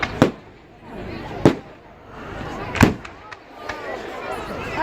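Fireworks bursting at a Bonfire Night display in Corby, several sharp explosive bangs a second or so apart with crackling tails, heard outdoors amid a faint murmuring crowd.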